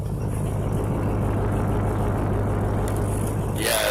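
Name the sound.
V8 truck exhaust idling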